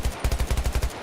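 Rapid automatic gunfire from a shooter game rattles off in an even burst of about eight loud, closely spaced shots, heard alone.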